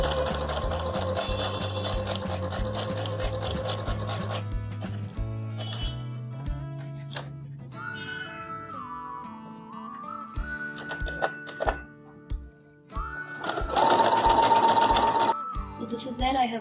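Sewing machine stitching two strips of 2-inch cotton silk together, running in quick rhythmic bursts that stop and restart, with a clicking mechanism, a whistled tune and brief handling noises between runs.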